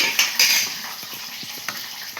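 A spoon stirs and mixes ingredients in a cooking pot, giving soft scraping swishes and a few light clinks in quick irregular strokes, close and fairly quiet with no talking.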